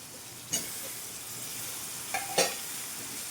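Spices frying in hot oil give a quiet, steady sizzle, with a sharp clink of a utensil against the pan near the start and two more scrapes toward the end.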